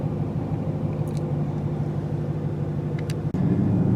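A 2017 Dodge SRT Hellcat in sport mode gives a steady, deep engine rumble heard from inside the cabin while driving, with a brief dip and then a louder surge near the end.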